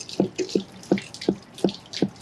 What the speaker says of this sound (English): we're going to let this drain for a little bit longer